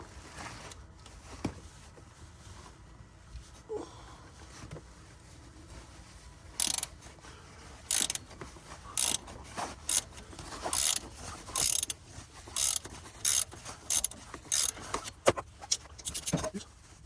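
A hand ratchet loosens a serpentine belt tensioner bolt, giving bursts of rapid sharp clicking that start softly and grow into a regular series of loud clicking runs, close up, with no talk.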